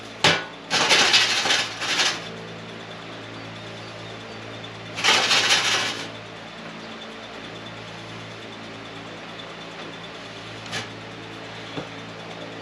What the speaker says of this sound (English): So we're going to part fill this with sand.